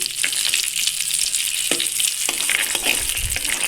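Green chilies fry in oil for peanut chutney while being stirred, a loud close sizzle broken by scraping strokes and soft clacks of the spoon against the pan.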